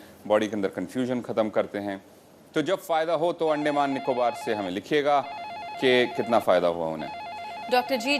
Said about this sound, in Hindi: जैसा कि आप सुन पा रहे हैं, फ़ोन की घंटियाँ लगातार बज रही हैं।